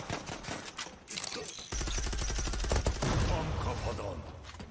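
AUG rifle fire in the Zula video game: rapid, loud automatic bursts crackle in a dense, steady stream through most of the clip.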